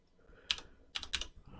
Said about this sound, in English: I'm just typing in my normal password.